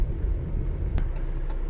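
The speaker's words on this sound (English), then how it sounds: "Comes a city truck right here." A city plow truck with a scraper and sander rumbles past on a snowy road, a steady low engine drone close by with a faint brief click partway through, no voices.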